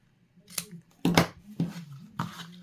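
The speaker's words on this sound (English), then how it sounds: "I like to put my two ribbons together, fold it kind of, and cut at the same time" Scissors snip through two ribbons held together in four distinct close, crisp cuts spaced about half a second apart, with quiet pauses between and no speech.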